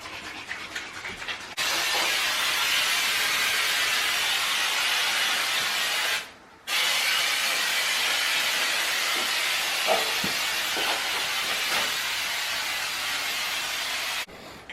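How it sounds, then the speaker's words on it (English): A rattle can of spray wall texture sprays a glue patch on a wall where a mirror was removed, in a circular pattern. A loud, close hiss runs for several seconds, stops briefly, then resumes until near the end. "we're using a rattle can of texture to shake it up real good"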